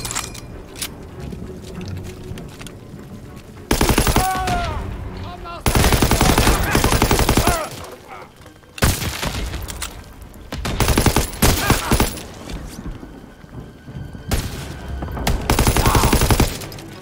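Machine gun fire in Call of Duty WW2 during a bunker assault: loud, sustained automatic bursts come in several long stretches, separated by brief lulls, with shouted voices mixed into the battle noise.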